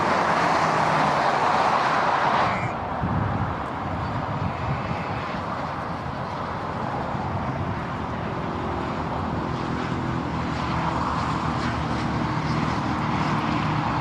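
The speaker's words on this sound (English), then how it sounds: "Hopefully the traffic noise will gradually fade as we walk on." Motorway traffic heard from a nearby walk, a continuous broad roar of passing vehicles that eases slightly after a loud opening pass and stays steady, with no talk.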